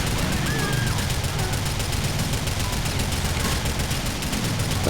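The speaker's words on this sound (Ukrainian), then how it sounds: "Що ти по мені стріляєш?" Dense, continuous automatic gunfire from a shootout in the video game GTA: The Lost and Damned, loud and unbroken for the whole stretch, with a voice faintly underneath.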